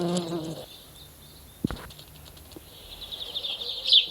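A thin buzzing drone of insects hovers in the background, swelling louder near the end, with a soft thump partway through.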